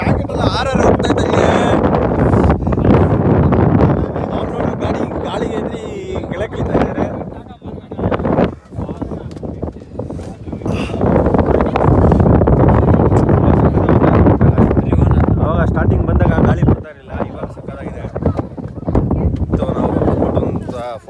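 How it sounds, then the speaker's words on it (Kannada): Strong wind buffeting a hilltop viewpoint on the Kolli Hills in Tamil Nadu, a loud, continuous broadband roar that rises and falls in gusts, nearly unbroken for the whole stretch. "ಇವಾಗ ಗಾಳಿ ಮಾತ್ರ ಸಖತ್ತಾಗಿ ಬರ್ತಾ ಇದೆ ಮಾತ್ರ"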